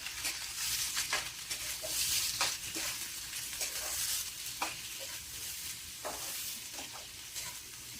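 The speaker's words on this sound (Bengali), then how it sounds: "পেঁয়াজগুলো দিয়ে আমি সুন্দর করে এগুলো মিক্স করে নিব" Five chopped onions sizzle in a pan for chicken curry, a steady hiss of frying broken by repeated scraping strokes as they are stirred.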